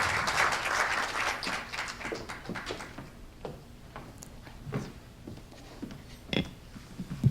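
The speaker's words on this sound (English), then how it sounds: "Please welcome him with a round of applause." An audience claps to welcome a plenary speaker at an Asian business schools conference, with loud applause at the start that thins into scattered claps.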